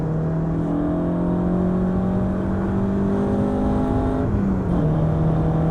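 An Ariel Atom engine pulls hard on a race track, a loud, steady droning whine with layered harmonic tones and a brief dip like a gear change near the end.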